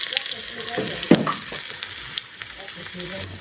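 Red chili and ginger-garlic paste sizzle loudly in hot oil for a dhaba-style dal tadka, a dense continuous frying hiss with a sharp pop early on and faint stirring throughout.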